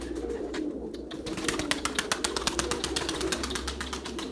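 Tumbler pigeons coo softly in a quiet yard, with a brisk run of rhythmic flapping or clicking taps partway through and no voices.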